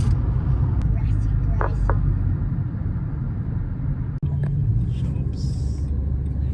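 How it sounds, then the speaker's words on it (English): Steady low road rumble inside a moving car on a drive past grassland, shops and farmland toward a state park campground, with engine and tyre noise continuous throughout and a brief dip near the end. "Daddy's driving."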